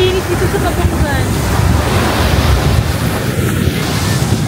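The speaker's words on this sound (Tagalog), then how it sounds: "Ganda ng dagat." Sea waves wash steadily onto a beach in Cabangan, Zambales, a loud continuous surf roar with heavy wind buffeting the microphone and no pauses.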